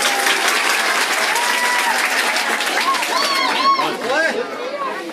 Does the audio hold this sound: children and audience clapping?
yes